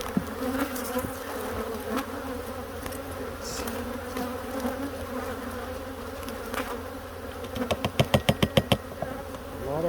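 Honey bees hum continuously in an opened hive during a sugar roll mite count, a dense close buzzing with rising and falling swells, joined near the end by a quick series of rhythmic clicks.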